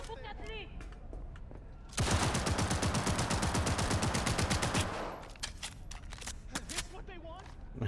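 Rapid automatic fire from an AP gun in the video game Cyberpunk 2077, a dense burst of shots for about three seconds between quieter game sounds and scattered effects.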